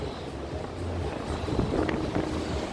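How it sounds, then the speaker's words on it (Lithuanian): Strong wind blows outdoors during a road trip from Lithuania to the Netherlands, buffeting the microphone with a steady, low, roaring rumble that swells slightly partway through. "Vėjas"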